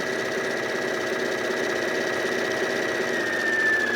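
Pfaff sewing machine stitching a quilt, a steady, continuous mid-pitched motor drone that runs loud and unbroken throughout without pauses.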